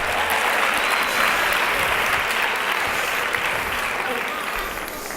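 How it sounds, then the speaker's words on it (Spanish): An audience at an education conference applauds continuously, a dense, even wash of many hands clapping that fades slightly toward the end. "Motivarlo, aplaudirlo"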